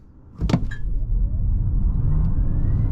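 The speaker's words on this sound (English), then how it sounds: "So let's do the first acceleration run here." A Kia EV6 GT electric car launches hard uphill with wheelspin, a sharp thump followed by a steady rising whine and road roar that builds and holds, with no talking.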